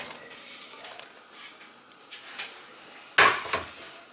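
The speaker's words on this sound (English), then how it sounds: "So let's mix all this up so they get coated in the oil." Onions being mixed in oil in a pot for French onion soup, a quiet scraping and stirring that builds to one sudden loud clatter of a utensil against the pot, then dies down.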